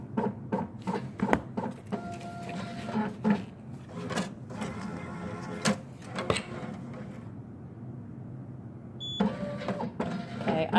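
A urinalysis analyzer printer outputs results in a quiet lab, with a series of short mechanical clicks and whirring feed noises, a brief pause, then more clatter near the end.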